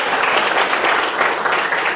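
A class of students claps together in sustained applause, a dense, even patter of many hands close by for the full stretch.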